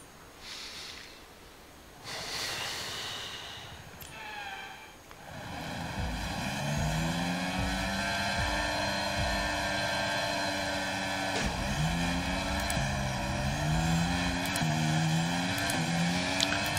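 A Formula 1 race car in the F1 2023 video game launches from the start, its engine note rising loud and close through repeated upshifts, with a clear revving whine holding over a rumbling low end and no talk.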